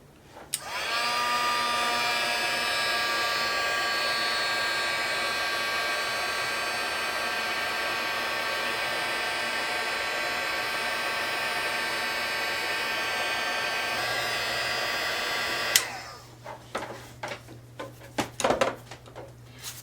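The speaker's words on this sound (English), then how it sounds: "I'm going to do embossing powder and then the heating for each one of these separate." A heat tool blows steadily for about fifteen seconds, melting embossing powder on stamped Christmas tags, a loud constant whirring hum, then it cuts off and a few clicks and handling knocks follow.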